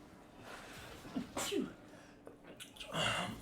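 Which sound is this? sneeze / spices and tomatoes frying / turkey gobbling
sneeze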